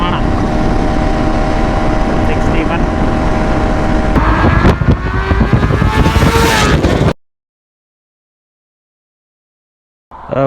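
A 2025 KTM 390 Adventure motorcycle ridden at speed, with steady engine drone and heavy wind rush for about seven seconds before the sound cuts to silence, then briefly returns.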